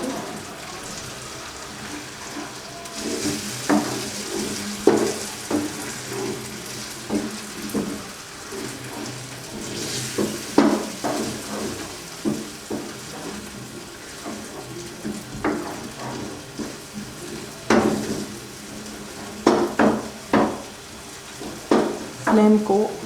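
Egg being stirred and mixed in a hot pan, an ongoing soft sizzle broken by frequent irregular spatula scrapes and knocks, close up, with a voice briefly speaking.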